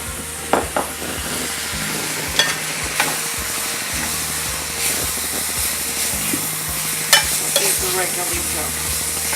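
Recadito of coriander, garlic, peppers and onion sizzles loudly in a pan for Puerto Rican yellow brown rice with chicken, a constant crackling fry punctuated by sharp scrapes and clinks of stirring.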